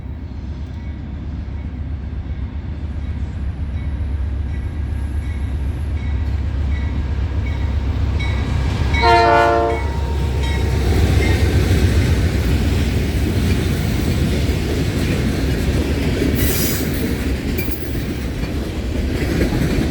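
A CN freight train led by Dash 8 locomotives, C40-8M and C40-8W units, rumbles past loudly and steadily, with a brief horn blast partway through and a constant roar of wheels and engines.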